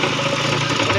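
A Suzuki Mehran engine runs close by with a faulty, noisy crank, giving a rough, dense mechanical drone with uneven knocking texture throughout.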